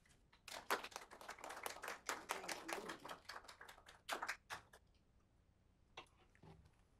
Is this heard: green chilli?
no